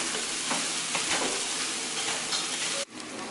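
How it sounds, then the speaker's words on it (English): A stir fry sizzles loudly in a pan, a steady close hiss with light stirring scrapes, cutting off abruptly near the end. "I just threw a bunch of like ingredients on the pan y'all saw and cooked this up"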